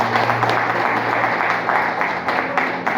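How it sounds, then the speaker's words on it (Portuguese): Applause from a church congregation during a sermon, a dense, steady wash of many hands clapping together at a moderate distance, sustained for the whole stretch with no voices over it. "e as palmas são para Jesus"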